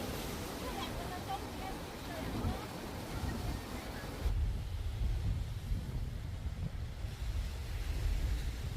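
Strong ocean waves near Cijin, Kaohsiung, at night close to the Cijin tunnel, roar as a continuous broadband wash with heavy wind buffeting the microphone, growing louder and rougher partway through, with no talk over it.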